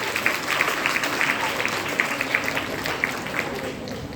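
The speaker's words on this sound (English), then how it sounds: "Let's give another round of applause for Mom." An audience applauds steadily at a family event, a dense wash of many hands clapping at moderate distance with no break, no voices standing out above it.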